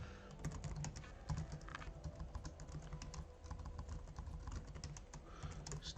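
An npm install command for a React chart package goes in on a computer keyboard as a steady stream of quick, close key clicks, with no one speaking.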